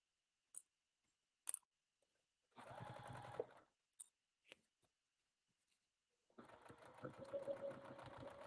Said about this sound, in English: I'm just sewing along the edge,